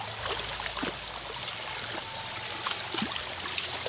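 Water of a clear river running steadily over its bed as a close, continuous trickling flow, with a few brief gurgles and splashes on top.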